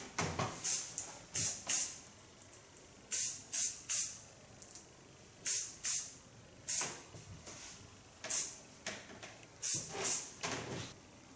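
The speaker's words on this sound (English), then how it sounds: "And now a little bit soft hairspray." Soft hairspray misted onto styled hair in quick bursts, about a dozen short hissing spritzes in rapid pairs and clusters with brief pauses between, close and fairly soft, no talking.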